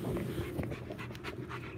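Dog panting in quick, steady breaths close to the microphone, fairly quiet and with no talk over it.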